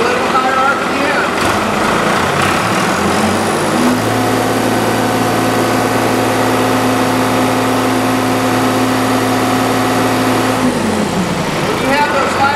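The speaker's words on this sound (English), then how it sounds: "You want to rev up the motor a little bit, get a little higher RPM." Farm tractor on a cold winter morning, its engine droning loud and close, climbing to a higher, steady RPM for several seconds before dropping back, with someone talking over it.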